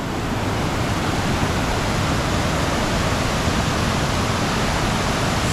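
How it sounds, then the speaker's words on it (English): Lower Reid Falls near Skagway, Alaska, roars as a steady, loud, broadband wash of falling water, unbroken and close, with no voices over it. "I don't know if you can hear it, but I can hear the waterfall."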